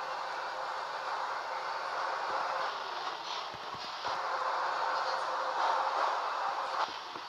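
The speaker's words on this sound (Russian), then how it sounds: "Вот мы сейчас уже будем прибывать на шоссе энтузиастов, а вот как раз эта станция." A Moscow metro train pulls into Shosse Entuziastov station, a continuous rumbling roar with scattered clacks and thumps of the wheels, steady and fairly close.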